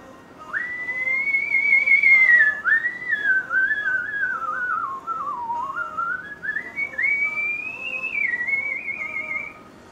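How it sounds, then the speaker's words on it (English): A person whistles a clear, sustained, wandering melody that slides up and down, loud and close, with no talking. "I whistle really well."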